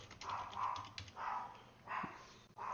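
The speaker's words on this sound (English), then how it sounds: "Sorry about the barking in the background" Small dog, under five pounds, barking in the background of an indoor room, several repeated yaps spread across the moment at moderate loudness with no talk over them.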